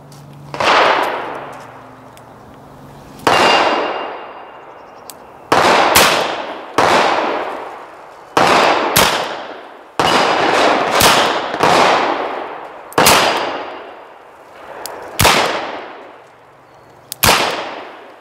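An M1917 Colt revolver fires .45 ACP rounds in about eleven loud, sharp cracks, each followed by a trailing echo. The shots come at uneven intervals, some in quick pairs, with no talk between them.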